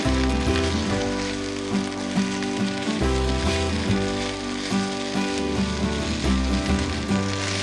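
Green peppers sizzle steadily in a hot frying pan, a loud continuous crackle that runs throughout, with music-like tonal layers underneath.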